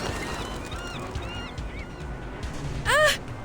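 Birds in a video game honk repeatedly, a run of nasal calls layered over busy game noise and music, ending in one loud, close honk near the end.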